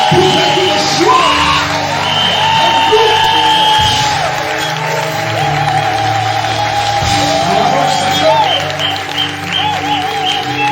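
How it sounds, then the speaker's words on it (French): A church congregation at a prophetic worship service erupts in sustained cheering, whoops, yells and applause, loud and dense throughout, with a voice calling out over the crowd. "Poussez des cris de joie."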